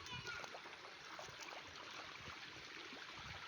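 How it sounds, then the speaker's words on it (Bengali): Water rushing and splashing steadily from a fish-catching spot, a continuous broadband wash with small splatters throughout, close and fairly loud, with a voice faintly mixed in. "অনেক জল যাচ্ছে।"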